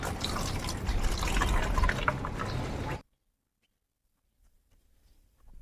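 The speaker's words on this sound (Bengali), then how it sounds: "এই বোতলের মধ্যে একটা ফানেল নেবো ফানেল নিয়ে এই মিশ্রিত দোবনটার মধ্যে ঢেলে দেবো" Mixed homemade liquid pesticide is poured through a funnel into a spray bottle, a steady close gurgling trickle lasting a few seconds before cutting off into near silence.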